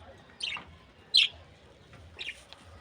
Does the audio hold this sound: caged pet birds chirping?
yes